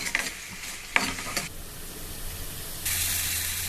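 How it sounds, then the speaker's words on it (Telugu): A spoon scrapes and stirs spices and salt into hot oil for an egg masala curry, with a few close stirring strokes followed by a steady, soft sizzle from the pan. "ఇవి మిక్స్ చేసేసుకోవాలి."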